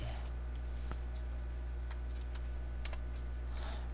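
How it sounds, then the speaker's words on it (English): Computer keyboard typing in a studio setup, a handful of light, sparse key clicks over a steady low hum, fairly faint and close. "So let me go ahead and type this in."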